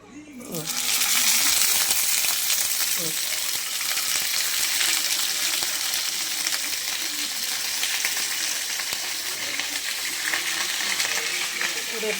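Morola fish paturi wrapped in banana leaf crackles and sizzles loudly in a hot pan, a dense, continuous spitting hiss starting abruptly and holding strong throughout.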